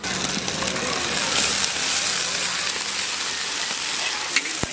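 Onions sizzle steadily in a pan for a village-style country chicken curry, with garlic and ginger paste joining them; a constant, close frying hiss runs throughout, with a faint voice underneath.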